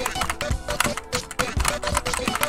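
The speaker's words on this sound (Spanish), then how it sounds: "me encanta hacer esto con el teclado, pegarle" A non-mechanical computer keyboard hit hard during a rhythm game, dense rapid clattering keystrokes with heavy thumps, close and continuous.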